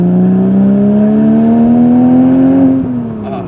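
A Porsche 986 Boxster with a Fabspeed Supercup exhaust accelerates hard, its flat-six engine note climbing steadily and loudly in one long pull heard from inside the car, then a quick shift and the revs begin to drop.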